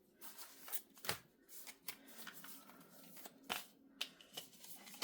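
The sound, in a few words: tarot cards being shuffled by hand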